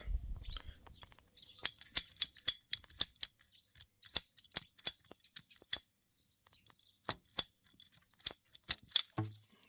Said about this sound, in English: Now let's try to cut a portion of the pipe.